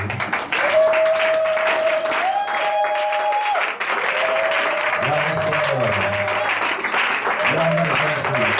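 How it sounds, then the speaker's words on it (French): Church congregation at a Sunday service applauding and cheering for Jesus, sustained loud clapping from a crowd, with a voice and tonal musical notes running over it. "Est-ce que nous pouvons acclamer pour Jésus?"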